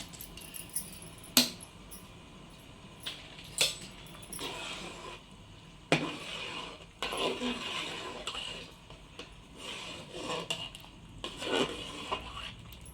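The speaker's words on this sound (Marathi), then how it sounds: "आता जे तुम्हाला मी तांदूळ दाखवलेले होते ते आता आपण ह्यात टाकून घेणार आहे आणि हलवत राहायचं आहे आपल्याला." Rice being stirred into a pot of chicken dum biryani, with scattered metallic clinks and scrapes of a spoon against the vessel coming in irregular bursts, close and moderately soft amid kitchen background.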